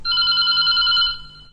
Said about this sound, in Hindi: मने फोन की घंटियां बजन लगी हैं